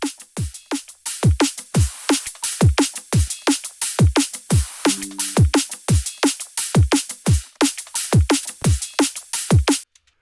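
A tight, punchy neurofunk drum loop repeats steadily: short hard kicks and cracking snares with crisp hats and percussion, loud and dry with no voices.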